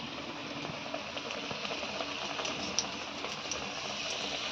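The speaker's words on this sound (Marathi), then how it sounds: "आता या तेलात त्याला अलगत सोडायचं आहे आणि छान सगळ्या बाजूनी त्याला फ्राय करून घ्यायचं आहे" A pav roll coated in rava and a corn flour and besan batter fries in hot oil, giving a steady, close, even sizzle and crackle with no voices over it.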